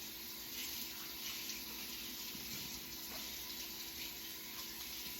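Hot tap water runs steadily into a kitchen sink while Nama juicer parts are scrubbed with a dish wand, a constant close rushing with no voices.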